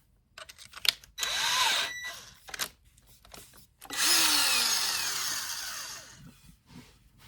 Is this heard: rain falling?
no